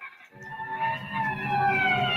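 A wailing emergency vehicle siren from an old radio drama rises out of silence and holds steady, its tone sweeping gradually, moderately loud and alone.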